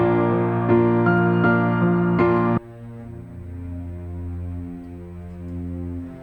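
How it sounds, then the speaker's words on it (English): A low bowed string instrument plays a slow, sustained bass line, a few long notes followed by a deep held tone, with no voices. "So I started with cello, which is basically essentially playing the bass for the track."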